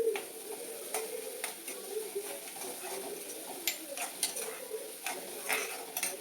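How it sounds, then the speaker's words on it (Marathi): Onions soften in a pan over low gas with green chilli, curry leaves, garlic, mustard seeds and cumin, giving a soft, steady sizzle with light stirring scrapes and occasional small clicks throughout. "आणि कमी गॅसवर कांदे छान सॉफ्ट व्हायला देते."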